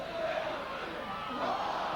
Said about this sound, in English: The crowd get behind them, the home crowd, more or less for the first time in this match